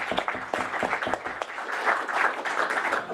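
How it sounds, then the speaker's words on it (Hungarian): An audience claps steadily at a doctoral scholarship award ceremony, a moderate room-filling round of applause sustained throughout without any talk. "Akkor tapsoljuk meg."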